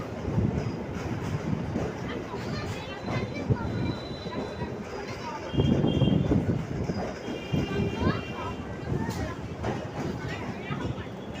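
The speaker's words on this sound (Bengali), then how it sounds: "আমাদের ট্রেন চলে এলো খিদিরপুর স্টেশনে" Heard from inside, a passenger train runs through Kolkata toward Khidirpur station in the port area, with a steady low rumble and rattle of the carriage, swelling louder midway, while a person talks over it throughout.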